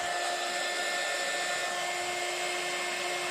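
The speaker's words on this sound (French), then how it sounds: "Et puis je vais venir chauffer ça avec mon heat gun." A heat gun blows steadily on embossing powder over a stenciled handmade card, a loud continuous whooshing hiss close up, running without a break and with no voices.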